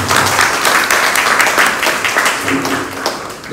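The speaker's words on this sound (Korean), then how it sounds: "여러분 큰 박수로" An audience at a Korean-language public forum gives a loud round of applause for the first presenter, with sustained close clapping that stays full and even before tapering slightly toward the end.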